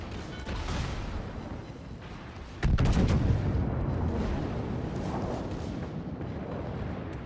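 Heavy naval guns firing shells in World of Warships during a battle with a Stalingrad cruiser: a sudden deep boom hits partway through and leaves a loud, rumbling wash of battle noise, with no talk.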